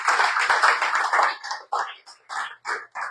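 Church congregation applauding during a Sunday service: a burst of dense clapping for about a second and a half, then breaking into a few separate, evenly spaced claps.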